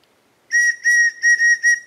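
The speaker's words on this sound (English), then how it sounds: "And it's a little whistle with the purple heart wood and the mesquite" A handmade deer antler whistle with a reed, fitted with purpleheart wood and antique mesquite, blown in five short shrill bursts with a clear steady pitch, alone after a brief quiet start.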